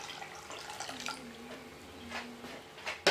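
Lukewarm water is poured into a bowl for dissolving yeast in gluten-free baking, faint splashing and dripping trickles with soft clinks of a container, quiet and close.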